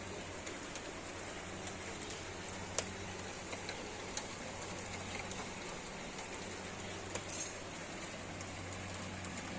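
Faint, steady patter of rain in the Italian mountains, a continuous hiss with occasional drips and ticks.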